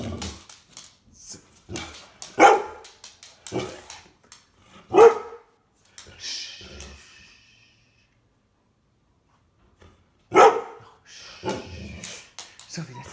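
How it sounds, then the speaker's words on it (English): A dog gives several sharp barks and yips, spread out with pauses between, alongside a person talking nearby. "Little bark."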